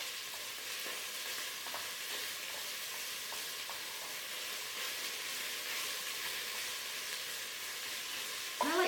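Sweet yellow onions sizzling in olive oil in a pan, a steady close frying hiss with small crackles and the odd stir, continuous throughout with no voices.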